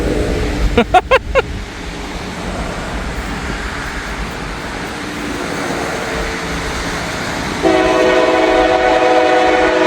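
A CSX autorack freight train sounds its horn in a few short close blasts, then rumbles past loudly and steadily with a rising mechanical roar.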